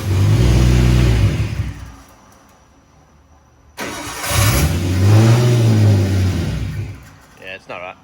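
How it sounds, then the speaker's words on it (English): A car on a dyno revs hard and spins its wheels, two loud surges of engine roar separated by a quieter lull, with people talking over it near the end. "Oh, it's spinning the wheels."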